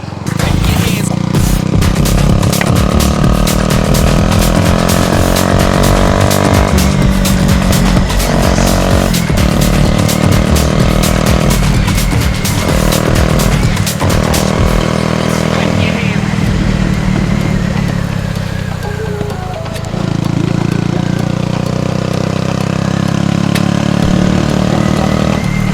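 A modified Bajaj Avenger motorcycle with a loud exhaust runs close by, a steady heavy engine drone with crackling pops as the throttle rises and falls, while someone talks over it.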